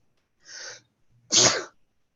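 A single sneeze: a short sharp inhale followed by a louder explosive burst, close and isolated in silence.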